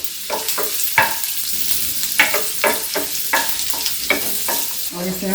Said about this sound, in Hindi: थोड़ा सा ऐसा भून लेंगे हम लहसुन को।